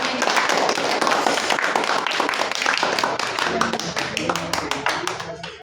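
Classroom of students clapping after group presentations in an Islamic studies lesson, a dense burst of many hands that thins toward the end, with voices talking underneath.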